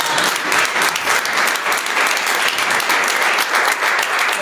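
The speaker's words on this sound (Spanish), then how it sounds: "Démosle un aplauso a los hermanos." Members of a church congregation give the brothers a round of applause during a sermon, a loud, sustained burst of many hands clapping at an even level.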